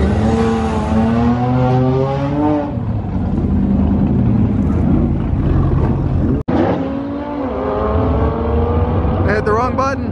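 An Audi S3 accelerates hard on a drag strip, engine revving up through rising pitch with a gear change, a brief cut, then climbing again, loud and near, with talking over parts of it.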